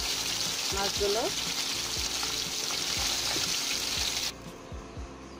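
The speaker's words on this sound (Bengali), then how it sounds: "মাছগুলো ভাজা শেষ। এখন আমি নামিয়ে ফেলবো" Sarputi fish and okra frying in a pan, a steady crackling sizzle throughout with occasional utensil clinks and stirring scrapes, dropping quieter near the end.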